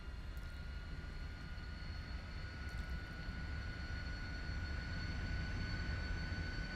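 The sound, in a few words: Lockheed T-33 jet engine accelerating, Microsoft Flight Simulator video game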